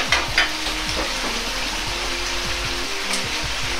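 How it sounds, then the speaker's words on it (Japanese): Sauce thickened with a potato starch and water slurry is stirred with a ladle while heating in a pan with vegetables, making a steady loud sizzle and bubbling with repeated scraping strokes, no voices. "加熱しながらしっかりと混ぜ合わせてとろみをつけます。"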